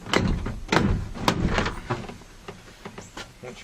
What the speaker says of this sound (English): either use your fingers or the trim stick, or the combo of both, and pop the door panel